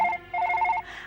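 A telephone rings with two short bursts of a bright electronic trill, the second longer, close and clear with no talking over it.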